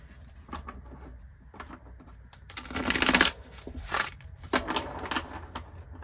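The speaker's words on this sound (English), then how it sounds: "I'm going to shuffle the decks" Tarot cards are shuffled in quick riffling bursts and soft shuffles, several decks close by, with one louder, longer riffle in the middle.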